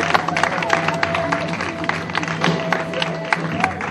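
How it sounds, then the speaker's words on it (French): Audience at a bonded warehouse store opening claps and cheers steadily and loudly throughout, a dense crowd wash with a faint sustained tone running under it. "Sous vos acclamations, s'il vous plaît."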